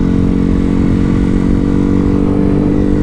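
A motorcycle on a Sunday morning group ride across a national border drones loudly and steadily at close range throughout, its engine note holding even with a slight rise near the end.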